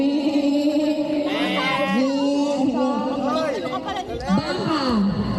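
A group of people at a party game imitating a goat, with several voices letting out wavering bleat-like cries over loud overlapping chatter and crowd noise.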